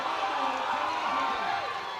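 A crowd at the men's 120+ kg World Open Classic Powerlifting Championships 2022 cheers during a lift, a steady, faint, distant roar with a voice faintly heard over it.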